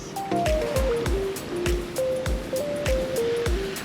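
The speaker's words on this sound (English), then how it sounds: "We're literally surfing these waves right now." Following seas surge against a sailboat sailing from Sandy Hook, New Jersey, toward the Bohemia River in Maryland. Rushing water swells and washes steadily, with rhythmic low thumps and faint whistling tones carried along throughout.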